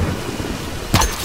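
Stormy weather in the Tomb Raider video game: a steady wash of rain hiss runs throughout, broken near the end by a sudden louder crack and rumble of thunder.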